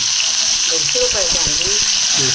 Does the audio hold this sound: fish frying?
yes